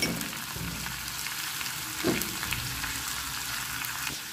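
Banana flower sundal with coconut, onion and green chilli stirred in a pan, a steady soft sizzle with faint scraping and one brief louder clatter midway, no talking.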